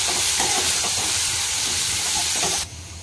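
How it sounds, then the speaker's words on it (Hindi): Green chillies fry in a pan for kunduri masala, a loud, steady sizzling hiss that continues evenly and then drops off abruptly near the end. "कंचा लंका भल से भाजवा"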